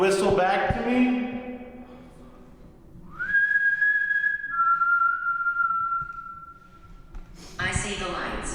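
A person whistles a long sustained tone that steadies and then shifts slightly lower, held for several seconds during a tense ghost hunt, with talking before and after it.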